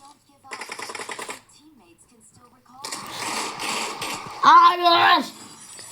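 Automatic gunfire in the mobile battle-royale game PUBG Mobile, rapid rattling bursts at moderate loudness, one burst then a longer stretch of shooting mixed with game noise, with a voice shouting over the end.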